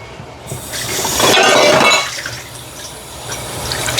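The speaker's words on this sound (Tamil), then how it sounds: "நான் இது ரெண்டு கப் அளவு தண்ணி விட போகிறேன் பாருங்க." Water poured into a pot of chicken being cooked, about two cups, a steady splashing pour that swells in the middle and then eases off, close by with no talk.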